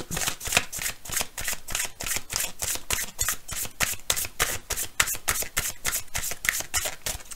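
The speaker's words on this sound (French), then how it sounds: "Alors, on va tirer une dernière carte." Tarot or oracle cards riffle-shuffled in a steady run of crisp, rapid flutters during an autumn card reading, close and fairly loud, with no talking over it.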